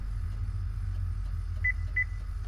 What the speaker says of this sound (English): you're going to hold it there until you hear two beeps